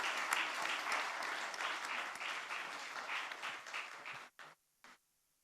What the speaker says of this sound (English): can we have a huge round of applause for all the winners in the room,